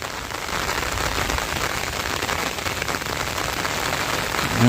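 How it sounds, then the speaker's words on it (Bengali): Heavy rain pours steadily on a river where fishermen cast nets for catfish, a dense unbroken hiss of drops on water filling the whole stretch alone without voices. "বৃষ্টি পড়ছে খুব জোরে"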